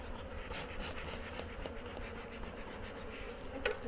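Honeybees hum in a dense, steady drone around an opened beehive during an inspection, close and continuous, with a faint scratch near the end and no talk.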